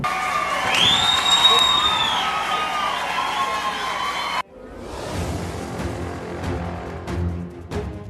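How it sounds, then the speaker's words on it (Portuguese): Residents of Colina Park shout, boo and protest at a public hearing. A loud, sustained crowd uproar fills the first half with a high whistle-like cry, then cuts to a rougher stretch of shouting and scattered bursts. "Gritaria, vaias e muita revolta dos moradores"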